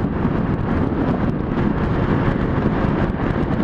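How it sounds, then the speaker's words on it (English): Heavy headwind roars steadily against the microphone while riding a motorcycle north, a loud, continuous buffeting rush with no break. "I got some pretty heavy headwinds though, running north."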